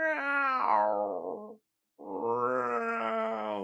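A person imitates a cat vocalization in two long, drawn-out meow-like wails, the first falling in pitch and the second rising, separated by a brief pause, loud and close with no other sound.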